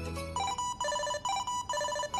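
A Tile tracker rings out the Jingle Bells ringtone, a bright, repeating electronic melody in short chimed phrases, clear and alone.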